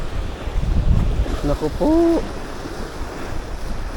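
Strong headwind and choppy surf buffet the microphone while fishing at sea from a boat during giant trevally hunting, a steady roar of wind and water with someone speaking briefly over it.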